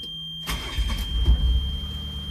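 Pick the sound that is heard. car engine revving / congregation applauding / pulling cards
car engine revving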